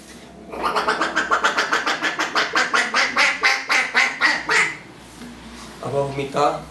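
A voice imitates a duck, giving a long run of rapid, evenly spaced nasal quacks, loud and close, followed by a few more quacks after a short pause.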